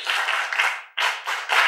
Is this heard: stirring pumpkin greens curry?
no